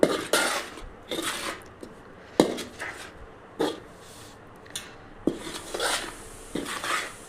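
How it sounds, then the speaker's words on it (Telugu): A spoon mixes cumin, fenugreek and mustard powders in a bowl for Telangana-style mango pickle, making repeated close scraping and clinking strokes in an uneven rhythm. "ఇప్పుడు అన్ని పొడులని బాగా మిక్స్ చేయండి"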